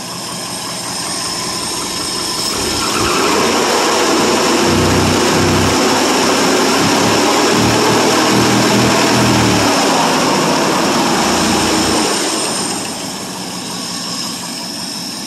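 A 1970 Ford F100 pickup's 390 FE V8 idles with a deep, lumpy rumble, swelling louder in the middle as it revs, then settling back down, steady and close.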